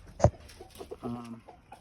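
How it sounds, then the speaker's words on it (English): Family roosters, a McCrae's line, cluck close by: one sharp loud call, then a few softer clucks and a drawn-out throaty note, over faint background murmur. "These right here are my dad's roosters, McCrae's."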